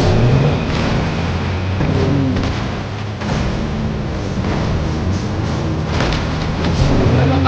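A car driving in the video game Fortnite: a continuous engine hum with mild rises in revs throughout, fairly loud, no clear speech.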